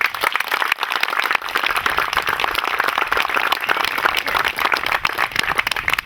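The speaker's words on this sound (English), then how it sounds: "Let's give them a round of applause, please." An audience at an event at the Reagan Ranch gives a steady round of applause, dense, continuous clapping that stays loud and even for the whole stretch.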